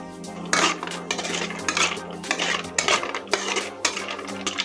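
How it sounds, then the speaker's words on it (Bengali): A spice mix for fishing bait fried in ghee in a kadai brings repeated metallic scrapes and clanks of a spatula against the pan, close and busy over a low background hiss. "দেখছেন এটা ঘি দিয়ে ভাজতে হচ্ছে"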